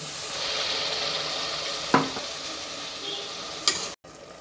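Turmeric and mint paste sizzling steadily in a pan for a vegetable pulao, a soft continuous frying hiss broken by a couple of sharp utensil scrapes and clinks near the end.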